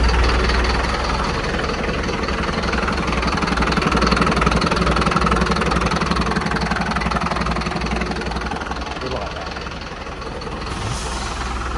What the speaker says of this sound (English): This startup is dedicated to Sarah, who loves the sound of Mercedes Varios just as much as I do.